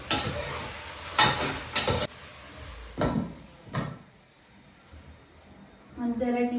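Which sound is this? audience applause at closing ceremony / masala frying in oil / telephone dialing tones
masala frying in oil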